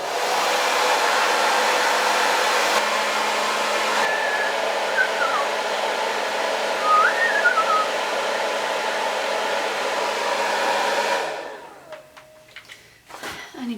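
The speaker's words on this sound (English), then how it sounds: "So I will just diffuse a little bit more." A hair dryer fitted with a diffuser blows loud and steady at close range while it dries wavy hair. The whine holds for about eleven seconds, then cuts off and leaves scattered small handling noises.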